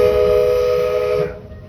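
A steam train whistle on the Magic Kingdom Railroad sounds loud and close as the train pulls into a station, a steady tone over low rumbling that cuts off, leaving the quieter hum of the engine.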